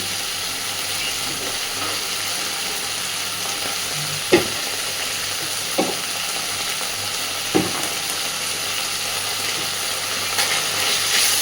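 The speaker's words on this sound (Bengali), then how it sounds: "খুব ভালোভাবে একদম গ্যাসের ফ্লেমটাকে কমিয়ে দিয়ে মশলাটাকে কষাতে থাকবে।" Spice masala for a vegetarian chal potol curry sautéed on a low gas flame, a steady soft sizzle with occasional scraping stirs of the spoon against the pan, no talking.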